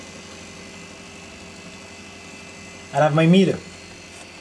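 A freezer compressor runs with a low, steady hum close by, and someone speaks briefly over it near the end.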